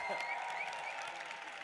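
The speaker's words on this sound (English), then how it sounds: "A round of applause for the Dutch team." Audience applause at an esports awards ceremony for a national team, a steady dense patter of clapping held at an even level through the short stretch.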